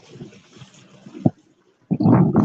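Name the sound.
waves pulling a kayak's motor propeller out of the water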